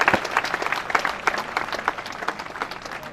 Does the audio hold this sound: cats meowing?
no